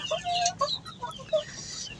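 Free-range village chickens at afternoon feeding time cluck and chirp close by with short, scattered calls over a quiet background.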